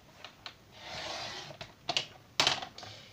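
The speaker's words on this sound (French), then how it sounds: "Et nous allons venir découper le surplus de ce côté." Excess paper trimmed from a scrapbook album page, a few soft close clicks and taps around a gentle sliding swish of the cut, quiet and unaccompanied by talk.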